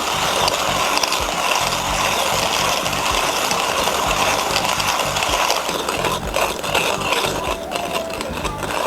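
A Timemore C3s hand grinder crunches coffee beans, a continuous rasping, gritty churn with a faint rhythmic pulse from the turning handle, close and alone.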